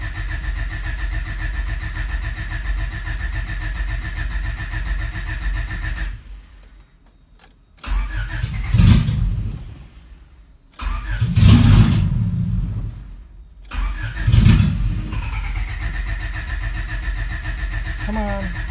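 Car engine cranking as a start is attempted, with the fuel pump on: a steady hum drops to near silence, then three separate rough cranking bursts follow before the steady hum returns.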